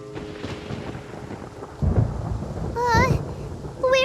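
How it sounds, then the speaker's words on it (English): Thunder during a storm in the video game Genshin Impact: a heavy low rumble rolls in and holds, with brief warbling tonal game effects sounding over it toward the end. "Paimon hears thunder!"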